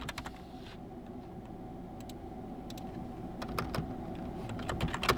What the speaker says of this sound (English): In here you need to type Samsung